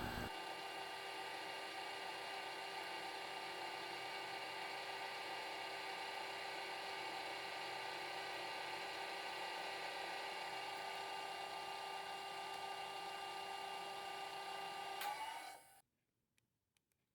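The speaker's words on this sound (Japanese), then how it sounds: "タップはモーター動力で切ります。" A motor-driven tap cuts screw threads into a lathe backplate with a steady high whine and grinding hum that holds for about fifteen seconds, then stops abruptly into near silence.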